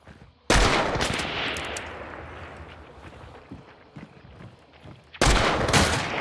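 Two loud, sharp gunshots from the Hunt: Showdown video game crack out, one near the start and one near the end, with a long reverberating tail and scattered softer noises between them.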